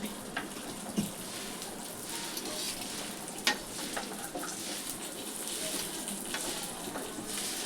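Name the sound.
food being stirred and roasted crisp in a pan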